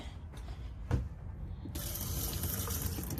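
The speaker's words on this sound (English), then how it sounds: "Cold water is working on all the faucets." Cold water runs steadily from an RV faucet, a constant close hiss and splash that gets louder and brighter partway through as the flow opens up. No talking.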